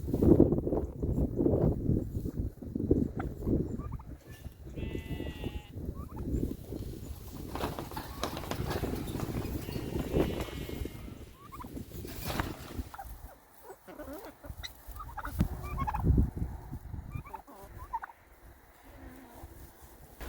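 A turkey, kept alongside chickens on a farm field, gobbles in repeated bursts through a busy outdoor soundscape with rustling and background farm noise, loud near the start and fading later.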